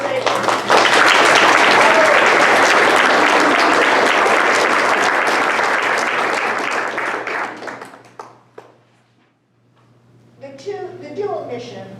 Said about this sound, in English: Please stand and let the rest of us give you applause.